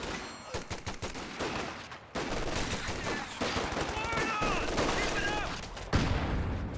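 LMG machine-gun fire rattles in bursts in a Company of Heroes 2 battle, with other gunfire and battlefield noise beneath, fairly loud and close throughout.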